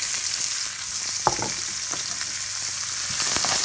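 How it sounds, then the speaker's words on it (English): Onions frying in a pan with bacon fat for a broccoli cheese quiche, a steady close sizzle with occasional light stirring clicks and pops, rising slightly toward the end. "Let's take your onions, put them in the pan."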